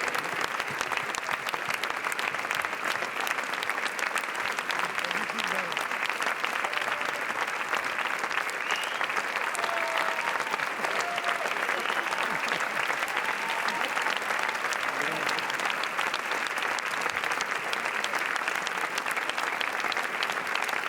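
A large audience at the Cannes Film Festival premiere of R.M.N gives the film team long, sustained applause, a dense continuous roar of clapping at steady level throughout, with faint voices beneath.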